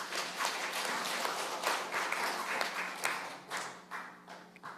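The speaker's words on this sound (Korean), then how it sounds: "박수 해주시기 바랍니다." Korean church congregation applauding at a Sunday service, a close, lively burst of many hands clapping that holds steady and then thins out into scattered separate claps near the end.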